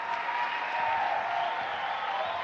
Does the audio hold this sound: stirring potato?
no